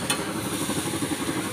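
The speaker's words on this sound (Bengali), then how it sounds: "তো দেখো চাউমিন ভাজা হচ্ছে।" Chow mein fries at a street food stall, giving a short burst of dense sizzling and stirring noise with a steady hiss and faint background rumble.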